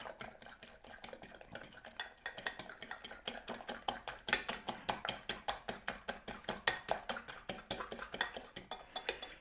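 Eggs beaten with a fork in a bowl for an omelette, a rapid, steady run of clinking taps against the side, close and fairly loud, with no talking.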